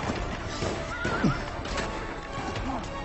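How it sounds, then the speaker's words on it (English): A horse whinnies over a steady patter of hooves clip-clopping close by, with a short rising neigh in the middle and faint voices mixed in behind. "I got my horse, my hefty horse in here."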